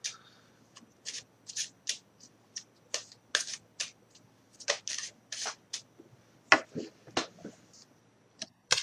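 Tarot cards are shuffled and drawn by hand in a quiet room, a string of brisk riffling bursts and soft slaps with pauses between them.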